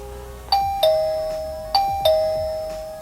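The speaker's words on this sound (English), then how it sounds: "Alright, so the chime works." An XTU video doorbell's chime plays a clear two-note ding-dong twice in succession, each bright tone ringing out and decaying slowly in a quiet room.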